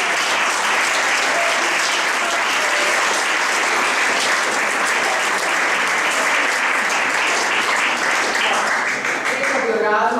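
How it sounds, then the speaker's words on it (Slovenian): A school audience at a peace poster exhibition opening gives a loud, dense round of applause that holds steady throughout, close and continuous. "Še en aplavz, prosim za vse skupaj."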